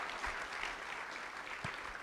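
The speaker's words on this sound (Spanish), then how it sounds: "Levántele un aplauso a Jesús en esta mañana." Church congregation applauding during a Sunday morning service, a dense, steady wash of many hands clapping throughout, fairly distant and even in level.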